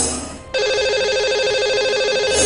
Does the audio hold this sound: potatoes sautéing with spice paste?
no